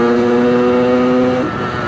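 A motorcycle engine holds a steady, close tone through most of the moment, then shifts down as the pitch drops near the end, with no talk over it.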